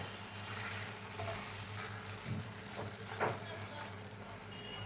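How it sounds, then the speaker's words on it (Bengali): Fried prawns are stirred into a bubbling curry in a pan, a steady low sizzle running throughout with a few soft scrapes of the spoon against the pan. "এবার আমি এর মধ্যে দিয়ে দিচ্ছি ভেজে রাখা চিংড়ি মাছগুলো, ভালো করে মিশিয়ে নেব"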